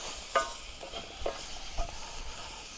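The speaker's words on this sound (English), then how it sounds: "Give them a little bit of a" Dried spices sizzle gently in a pan, a quiet steady fry broken by three or four soft clicks of a spoon against the metal.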